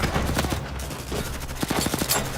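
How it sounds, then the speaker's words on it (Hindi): Dense action-movie gunfire, rapid overlapping bursts of shots in a loud continuous fusillade with sharp cracks standing out, no clear talk. "फायरिंग करते रहो।"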